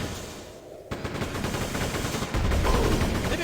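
Rapid gunfire from the Quake II Ground Zero expansion, played on a Berserker-style setting in a liftless level: dense, continuous bursts of shots that grow louder and heavier partway through, with no pause across the stretch.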